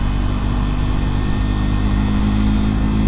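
A Triumph Scrambler 400X motorcycle engine runs steadily up close, a loud, continuous low throbbing drone with even, unchanging pitch and no talk over it.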